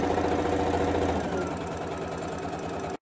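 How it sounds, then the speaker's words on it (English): Sewing machine stitching a dart on a cosplay garment, a fast, steady mechanical whirring and rapid needle thumping, close and continuous, stopping abruptly at the end. "Put it on the machine and sew it down the sides."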